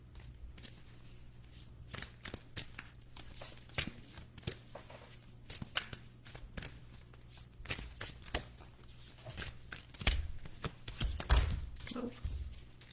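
Playing cards shuffled by hand over several seconds, a run of quick riffling bursts and taps with light voices in the background.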